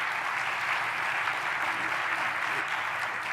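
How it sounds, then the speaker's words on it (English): An audience claps steadily at a conference closing ceremony, a dense, even wash of many hands that stays fairly distant and holds level throughout. "I think we should clap for them"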